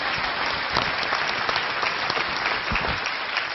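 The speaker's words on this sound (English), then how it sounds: "Give him a round of applause" Dense, steady applause from a seminar audience, many hands clapping continuously at close range with no pauses and no voices standing out.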